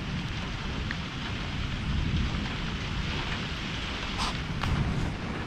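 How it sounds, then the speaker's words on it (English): Steady rain falling during a thunderstorm in a canyon, a constant rushing hiss with low rumbling underneath, no voices. "Ooh, nice cold rain. It's definitely rain down there."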